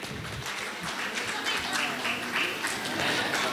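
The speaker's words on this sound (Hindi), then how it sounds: "जोरदार तालियां इनके लिए।" An award ceremony audience claps at a moderate distance, a steady wash of applause continuing for a few seconds under light background chatter.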